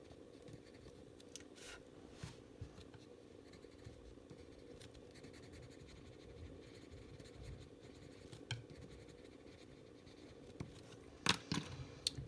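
Coloured pencil blending over a burnt ochre layer on paper, a steady soft scratchy scribble of lead strokes that runs continuously at close range, with a few sharper taps and scrapes near the end.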